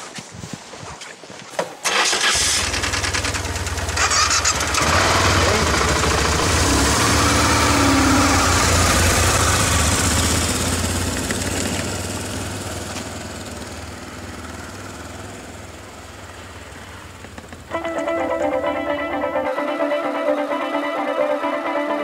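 BMW R1150GS motorcycle on road tyres starts up and rides off-road along a forest track near Lake Vyrnwy, its engine rising to a loud close roar, easing off, then a change in the engine note near the end.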